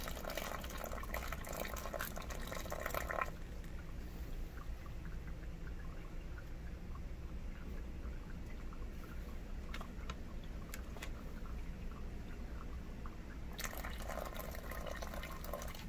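Water pouring into a container to fill it while preparing an Estonian 24-hour ration menu: a steady close splash and trickle, stopping briefly midway with a few drips before the flow resumes.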